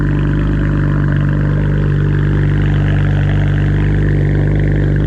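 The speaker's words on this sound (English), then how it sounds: "the car has a muffler delete" A BMW 335i with a muffler delete and 4-inch tips idles, giving a steady, deep, rumbling exhaust drone at close range with a constant low throb and no talking.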